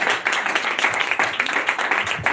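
Crowd applause and clapping for Jesus at a francophone prayer meeting, a dense, steady wash of many hands lasting a couple of seconds with murmured voices mixed in.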